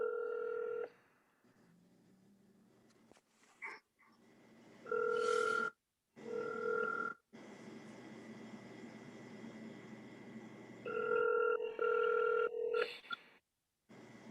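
A phone line rings after a call is dialed, with several clear ringback tones separated by gaps, alongside brief dialing beeps and a quiet line hiss.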